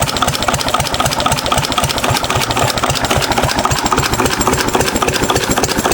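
A 6 HP Witte diesel engine runs alone up close, its steady, rapid thumping beat knocking evenly with a clattery mechanical rattle over it.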